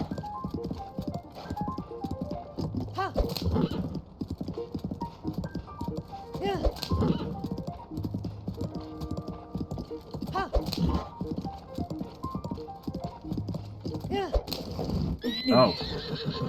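A horse in a video game whinnies several times and gallops with rhythmic clip-clop hoofbeats, looping steadily beside game music, with brief game effects near the end.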